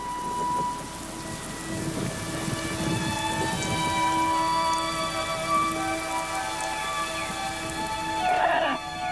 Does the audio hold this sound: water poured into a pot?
no